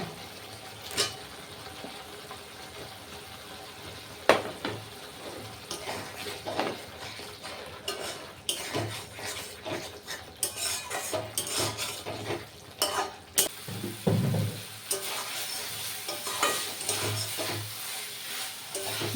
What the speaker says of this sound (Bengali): যতক্ষণ না মশলা থেকে তেল ছাড়ছে ততক্ষণ কষাতে হবে